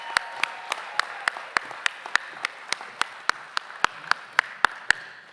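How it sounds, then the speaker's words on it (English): Graduation ceremony audience at a university stole-donning event applauding the graduates: sparse, evenly spaced hand claps, about eighteen sharp claps at a steady rhythm, fairly faint and close. "Let's give another big round of applause to our graduates."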